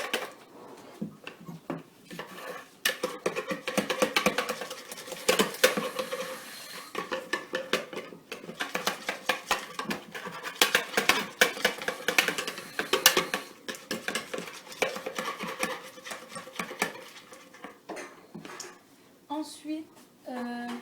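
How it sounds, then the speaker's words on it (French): A strawberry cup pastry cream mixture is stirred in a bowl with a utensil, making steady scraping and clinking with irregular taps throughout, close and moderately quiet. "Je vais mélanger comme ça."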